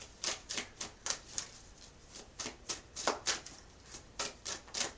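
Tarot cards being shuffled by hand, a series of crisp riffling bursts in an uneven rhythm, about a dozen quick flutters heard close with quiet gaps between.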